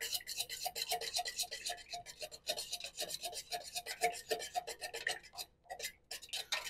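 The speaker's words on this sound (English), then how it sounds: "you want to just keep stirring until it is thoroughly mixed" Creosote salve balm mixture being stirred by hand in a container, giving a steady, rapid series of close scraping, rasping strokes with no talking.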